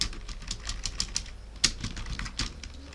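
Rapid typing of text on a computer keyboard during graphic design software work, an even run of crisp close key clicks with one sharper strike, over a steady background hiss.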